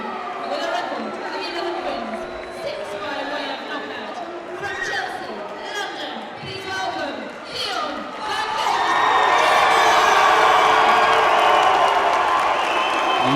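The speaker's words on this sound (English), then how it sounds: "And you could just hear that loud crowd, that big terrific support here for DEION." A loud boxing crowd at the English cruiserweight title fight between Deion Jumah and Wadi Camacho murmurs and chatters steadily, then swells into sustained, roaring cheers and whoops that fill the hall.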